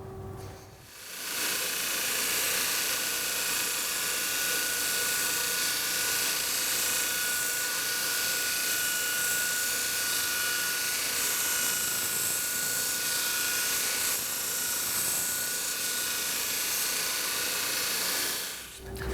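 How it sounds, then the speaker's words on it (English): A grinder tapers the plywood layer of an EVA-foam and wood horseshoe held at an angle, making a loud, steady, hissing abrasive roar close by that runs for nearly twenty seconds without speech. "I'm going to hold my shoe at a 45-degree angle to the grinder"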